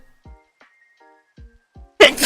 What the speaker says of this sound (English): Oh, gotta sneeze.